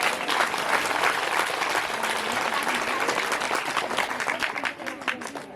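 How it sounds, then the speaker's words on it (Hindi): An audience at a religious discourse claps continuously, dense and steady applause throughout that thins slightly toward the end. "देखो फिर भी तालियां नहीं बजा रही। ताली के मामले में बहुत कंजूस है।"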